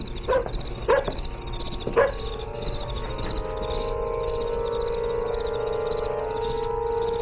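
A dog barks a few times in a radio drama scene, sharp separated barks near the start, followed by a steady hum and faint tonal background.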